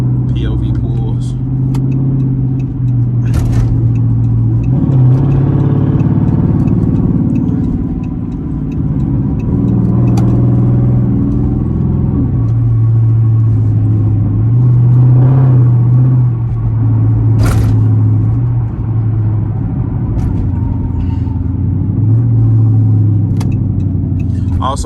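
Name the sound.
Chrysler 300C Hemi accelerating hard on highway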